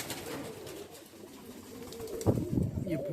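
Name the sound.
pigeons cooing in a pigeon loft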